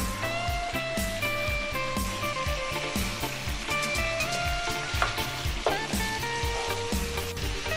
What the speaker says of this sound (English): Add mutton. Fry 2 minutes on medium flame.